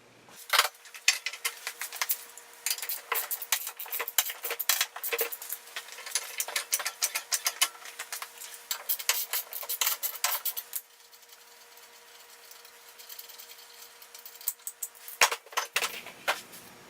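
Metal tools clink and rattle while a tire is removed from a four-wheeler, with irregular close taps and jangles throughout and a quieter stretch partway through.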